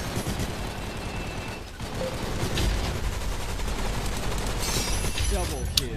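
Rapid gunfire from the virtual reality shooter Gun Raiders, a dense, steady stream of shots heard close and loud for the whole stretch, with game effects mixed in.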